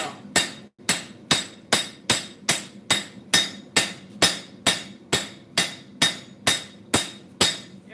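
Steady, evenly spaced hammer blows on sheet metal being textured and stretched for a piece of garden art, about two strikes per second, close and loud with a bright ringing edge and no talking.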